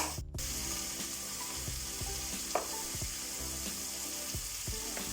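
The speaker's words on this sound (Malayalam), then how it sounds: "ഇഞ്ചി വെളുത്തുള്ളി പേസ്റ്റ് ഇട്ട് കൊടുത്തിട്ട് നന്നായി വാട്ടിയെടുക്കാം" Green chilies and ginger garlic paste sautéing in a pan, giving a quiet, steady sizzle with occasional soft scraping and stirring clicks of a utensil.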